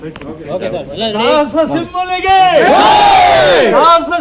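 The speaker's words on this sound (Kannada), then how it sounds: "ಒಂದು ಜೈಕಾರ" A crowd at a memorial gathering raises a loud victory chant, voices rising together into a sustained group shout after a lead voice calls it out.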